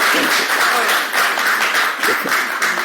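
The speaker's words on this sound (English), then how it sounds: "let's give a big applause for them" An audience applauds, a dense and loud burst of clapping that stays steady for a few seconds.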